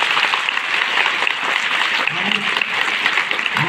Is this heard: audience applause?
yes